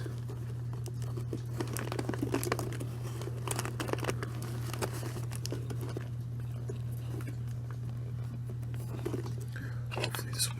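Tape being torn and handled to hold a coffee filter in place, heard as close, soft crinkling and tearing over a constant low hum, with brief crackles throughout.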